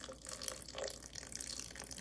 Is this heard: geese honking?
no